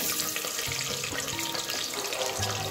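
Onions hit a pan of hot ghee for chicken gravy, a bright crackling sizzle with a few clatters as they settle, with no one talking.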